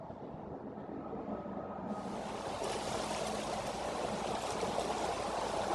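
Bear Creek flowing where Chinook salmon spawn behind a marsh, a steady broadband rush of moving water, constant and fairly faint throughout, with no voices.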